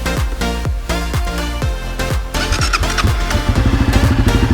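A Honda CRF 250 F dirt bike engine revs in quick repeated bursts as the throttle is pressed and released, each rev dropping back in pitch, loud and close, with no talking.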